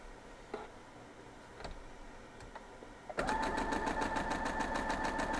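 A sewing machine stitches pieces of a broken courthouse steps (potato chip) quilt block, starting abruptly after a few soft clicks and running as a steady, close, rapid mechanical whir to the end.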